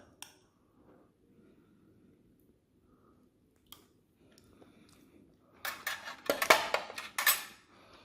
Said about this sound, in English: Let's give it a stir. Give it a mix.